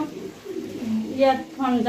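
Fancy pigeons cooing nearby, a few soft throaty coos in quick sequence, with a person's voice talking over them.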